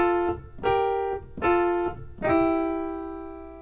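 Jazz blues lick on piano played without the C, four ringing chords struck in an even, unhurried rhythm with the last one left to sustain and fade. Close and alone with no speech.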